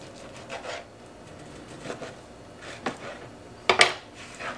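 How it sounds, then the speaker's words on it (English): A knife chops bacon on a cutting board with sparse, close knocks and scrapes at irregular intervals, ending in a louder pair of sharp strikes. "We're just going to go ahead and start chopping up this bacon."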